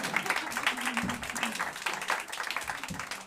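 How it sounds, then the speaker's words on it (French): A comedy-club audience at a magic show gives a volunteer a short round of applause, quick uneven clapping mixed with a few voices, fairly close and moderately loud for about three seconds. "On peut applaudir Élise."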